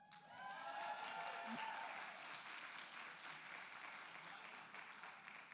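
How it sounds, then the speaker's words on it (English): Applause from the audience at the True Colors Fund 40 to None Summit, a youth forum: a steady, moderately full patter of clapping lasting several seconds, somewhat distant, with a faint voice near the start. "Round of applause."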